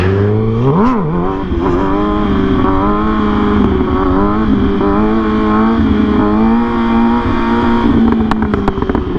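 600cc motorcycle engine revving up, then held at a steady, loud, droning throttle during a wheelie, with small pitch wobbles and a faint clatter.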